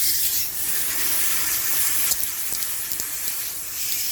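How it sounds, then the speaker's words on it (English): Water sprays steadily to rinse out the tubes of a packaging machine, making a continuous close hiss with a few small knocks and drips partway through. No one talks. "Make sure we rinse all this out real good."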